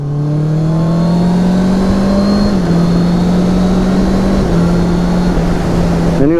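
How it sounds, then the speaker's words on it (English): A high-pitched four-cylinder engine on a 2023 Honda CBR650R sport bike screams steadily at high revs, loud and close, with slight pitch shifts as it holds speed. "You have the screaming 4-cylinder engine."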